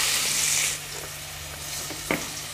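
Thin-sliced large onion drops into hot oil for an egg biryani and sizzles loudly at first. The sound then settles into a quieter, steady frying crackle with faint stirring, and no one speaks.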